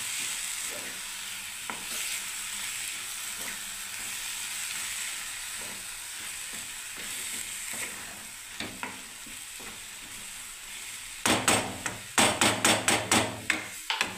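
Chana dal with cabbage, salt and turmeric being stirred in a pan over a gas flame, a soft steady sizzle with faint spoon scrapes, then sharp clustered clanks of the utensil against the pan near the end.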